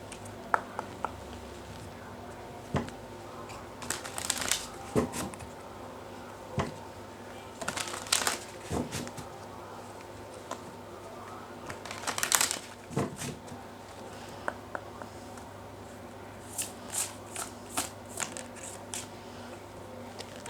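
Oracle cards being shuffled and handled, faint and intermittent, with soft riffles and taps at irregular intervals over quiet room tone and no talking.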